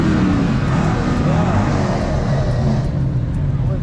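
A deep, rumbling truck engine idles and revs steadily nearby at a gas station, a continuous low roar with faint voices underneath.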